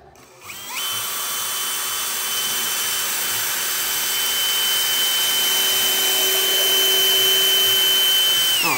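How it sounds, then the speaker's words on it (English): A power drill spins up and runs at a steady high whine for several seconds while pre-drilling holes in a wooden bookshelf, close and loud. "now we're going to pre-drill it"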